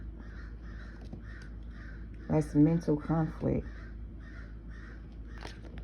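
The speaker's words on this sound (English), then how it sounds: "But these crows give me a freaking headache." Crows caw repeatedly in a steady rhythm at moderate distance outdoors, with a brief burst of a person talking breaking in partway through.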